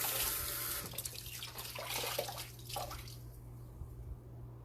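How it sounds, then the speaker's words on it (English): A dish cloth is rinsed under a running kitchen sink tap, water splashing steadily and close, then thinning toward the end. "rinse it out"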